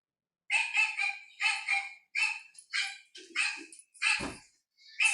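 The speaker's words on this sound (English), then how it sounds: "Stop barking, you little brat!" A small dog, one of the puppies, barks and yaps in quick bursts, close and fairly loud, with a short low growl near the end and brief silent gaps between barks.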